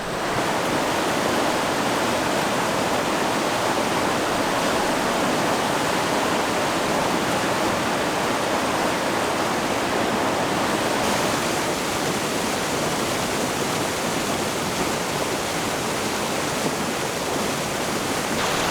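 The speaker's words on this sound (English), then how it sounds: "Look at that waterfall in the distance. That is a monster." A large waterfall on a river roars as a steady, loud broadband rush that stays unbroken throughout, with no voices over it.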